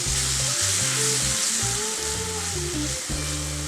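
Onions and capsicum fry in a pan with cream over a gas flame, giving a loud, continuous sizzle and crackle throughout, with occasional stirring noises and no talking.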